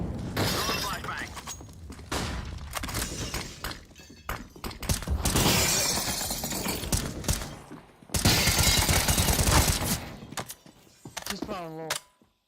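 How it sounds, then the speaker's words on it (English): A flashbang grenade goes off in a multiplayer shooter as sharp shattering bursts and gunfire-like cracks over several seconds, with players talking over the noise. "Throwing flashbang."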